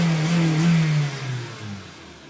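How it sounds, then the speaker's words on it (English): Engine of a 2012 Honda Civic revving up, then the revs falling away as it settles, a smooth mid-pitched rising and dropping tone heard up close with no voices. "this car is just much more free revving"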